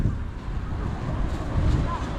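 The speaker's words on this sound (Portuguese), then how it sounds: "Ai, mó ventão agora, hein?" Strong wind buffeting the microphone outdoors during a kite fight, a continuous loud low rumble with gusty surges and no break.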